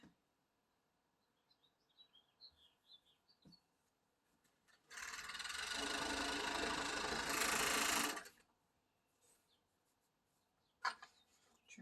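A sewing machine stitches flat through two layers of fabric for a romper in one loud, continuous burst of about three seconds, with faint birds chirping before it, then quiet handling clicks after it.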